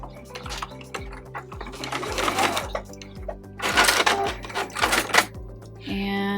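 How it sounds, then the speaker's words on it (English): A sewing machine back-stitches through several layers of a scrappy zippered pouch. The needle makes a regular mechanical clatter that turns busier and louder midway, then settles into a steady hum at the end. "if your machine is pretty sturdy, you should be able to sew through all these layers. Okay. And now we do a back stitch."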